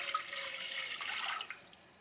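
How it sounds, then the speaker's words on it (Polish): Water pours steadily into a pot on a stove with a continuous splashing rush, then tapers off toward the end. "To teraz my tu postawimy garnek, napalnik, wlejem wody."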